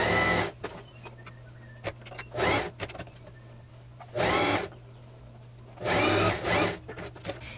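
A sewing machine stitches close along the fabric edge of a puff sleeve blouse in several short motor bursts separated by pauses, with a faint steady hum underneath.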